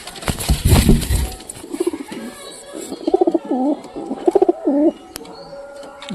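Domestic pigeons in a loft, including desi and giribaz birds, give a run of soft, throaty coos in repeated bursts after some initial rustling and scuffling nearby.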